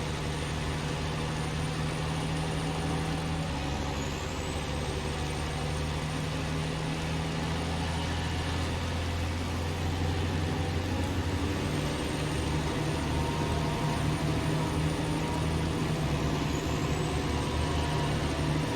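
The Juggernaut truck in Snowrunner runs its engine in a steady, loud low drone, with a constant rumble throughout and a couple of faint rising whines, no talk.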